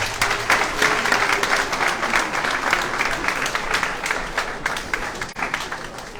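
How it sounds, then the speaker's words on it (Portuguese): A community audience at a theology ceremony applauds the reverend professors, with a dense, sustained round of clapping from many hands that stays loud and even throughout before easing slightly near the end. "Pelo que a comunidade agradece com uma salva de palmas"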